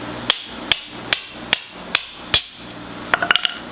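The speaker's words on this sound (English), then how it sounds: "You just smash it with the hammer." A hammer strikes a tile chisel in six sharp, evenly spaced metallic blows, followed by a quick cluster of lighter taps, loud and close.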